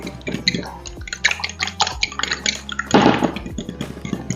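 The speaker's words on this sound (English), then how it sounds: "I'm just going to whisk it nicely." Marinade being whisked in a bowl for saffron lemon chicken, with steady wet clinks and sloshing strokes close up, a busy rhythmic scraping and dripping texture throughout.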